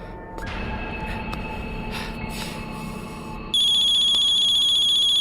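A mobile phone starts ringing abruptly partway through, a loud steady electronic ringtone cutting in over a low background rumble.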